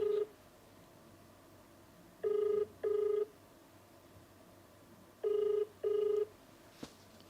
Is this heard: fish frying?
no